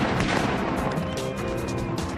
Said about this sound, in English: you can start shooting